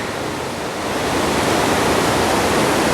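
Rushing river rapids roar steadily with dense broadband turbulence, close and loud, swelling slightly after the first second and holding constant with no voices.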